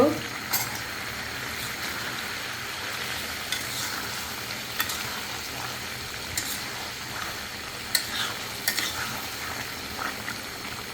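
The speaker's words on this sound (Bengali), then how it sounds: "তরকারিগুলো আমি আবারও নেড়ে দেব" Vegetables (ridge gourd and potato, cooked with pabda fish) stirred in a sizzling pan, with a steady frying hiss and occasional sharp scrapes and clicks of the spatula, close and moderately loud, no talking.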